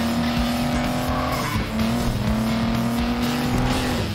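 In the racing game FlatOut 2, the Sunray car's engine drones steadily while its tires squeal through a long skid, loud and continuous for about four seconds.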